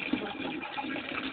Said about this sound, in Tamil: இங்கே சுடுதண்ணி வருது